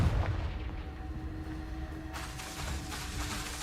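The Confringo blasting spell in Hogwarts Legacy erupts with a deep booming blast at the start, followed by a rumbling, crackling roar that fades and swells again.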